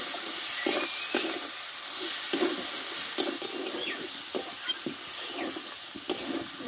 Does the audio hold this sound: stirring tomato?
yes